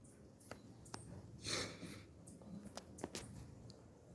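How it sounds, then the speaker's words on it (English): A few quiet, close sniffles, short breathy bursts spaced irregularly in a still room. "Excuse my sniffles."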